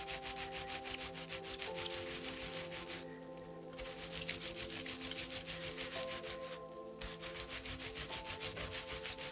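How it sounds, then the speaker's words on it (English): Felted wool piece being rubbed on bubble wrap, a continuous scratchy rubbing texture with two brief pauses, close and fairly quiet. "try to open this up and actually rub it right on the bubble wrap"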